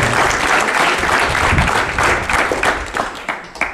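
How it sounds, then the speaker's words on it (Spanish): Applause from a crowd at a graduation ceremony held in a prison, loud, dense clapping sustained throughout and beginning to thin toward the end. "Con ese fuerte palmas para él."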